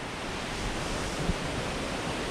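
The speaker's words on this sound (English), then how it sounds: "it sounds like there's a waterfall over there" A distant waterfall on Vancouver Island heard across a river or creek, a steady broadband rushing roar with no breaks and no voices.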